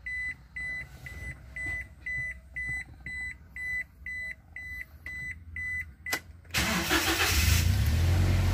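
A car engine cranks and catches after a series of rhythmic electronic beeps from an aftermarket Android dashboard screen, then settles into a loud, steady running rumble close by.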